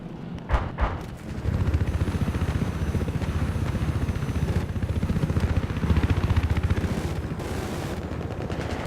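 Helicopter in the video game Battlefield Hardline, a steady loud rotor and engine roar running throughout, with heavy gunfire bursts mixed in and sharp shots near the start.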